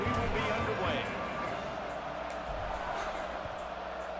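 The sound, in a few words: stadium crowd at a college football game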